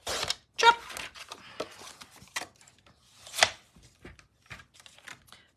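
A piece of card is chopped with a cutter, giving several sharp, close cuts and thuds at irregular intervals among quieter handling sounds.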